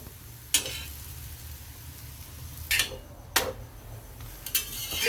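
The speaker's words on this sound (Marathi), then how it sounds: "आता खालची साईड आपण भाजून घेऊ आता तेल टाकायचं तर टाका नाही तर नाही टाकलं तरी चालतंय आता याला मस्त खरपूस असं भाजून घेऊ" A dhapate flatbread roasts on a pan with a faint, steady sizzle, broken by four short sharp scrapes or clinks of a spatula spaced a second or two apart.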